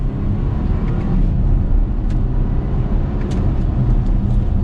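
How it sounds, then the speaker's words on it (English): A 2022 BMW X4 xDrive30i SUV in Sport Plus mode accelerates with its engine in manual mode. Heard from inside the cabin, a steady, fairly loud engine drone mixes with road rumble and rises slightly as speed builds. "We'll give it a little bit of gas."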